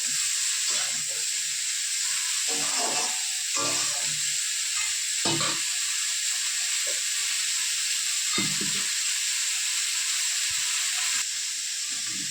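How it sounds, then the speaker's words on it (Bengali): Cauliflower florets fry in a pan with a steady, close sizzle and hiss that runs throughout, punctuated by several brief stirring scrapes and clatters. "তো এই দেখো কপিটা ভাজা হয়ে গেছে"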